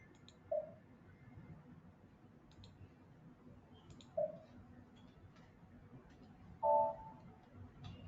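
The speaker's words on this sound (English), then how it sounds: "Now let me double click on OpenSQL" Sparse, faint mouse clicks sound at a computer desk, isolated snaps spaced a few seconds apart, with a louder double click near the end over a quiet room hum.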